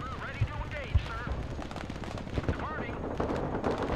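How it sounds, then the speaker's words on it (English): Artillery fire in the RTS game Broken Arrow: a few dull booms at irregular intervals beneath a dense bed of battle noise, with chirping game effects and radio chatter layered on top. "Skyscraper is taking direct artillery fire."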